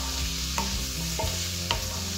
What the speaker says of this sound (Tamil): ஒரு 2 நிமிஷம் அப்படி கிண்டி விடுங்க